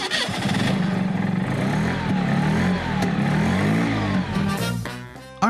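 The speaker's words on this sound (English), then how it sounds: "Humming underneath, almost like a turbine, was the 50-horsepower Wankel engine." An NSU car's 50-horsepower Wankel rotary engine hums steadily and smoothly, turbine-like and close by, holding a fairly even drone before tapering off near the end.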